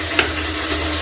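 Tomato tipped into a hot frying pan gives a steady close sizzle and hiss, with one brief soft plop near the start and no voices.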